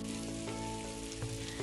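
Chicken pieces frying in a pan for homemade kuzhimanthi give a steady, close sizzle with scattered small pops and crackles, and no voices.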